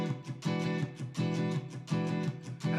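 Electric guitar chords strummed in a groove pattern with double hits, repeating rhythmic stabs in quick pairs, loud and close, with no talking.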